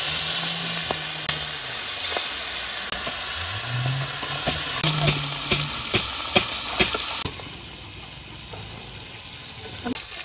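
Poa fish frying in hot oil in a wok, a steady loud sizzle with bright hiss and occasional spatter crackles, stirring scrapes and clacks, the frying easing noticeably toward the end.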